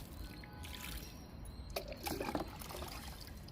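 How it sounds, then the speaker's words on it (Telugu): Water poured from a mug onto cardboard boxes set up for composting, a soft trickling splash building briefly in the middle, faint and close against a quiet background. "ఈ అట్టపెట్టెలకి వాటర్ ఇచ్చేద్దాము"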